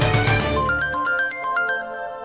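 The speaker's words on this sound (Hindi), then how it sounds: "अरे जीजा जी का फोन।" A mobile phone ringtone plays a bright electronic melody, loud and near, in a home scene from a Hindi TV drama, with nobody speaking over it.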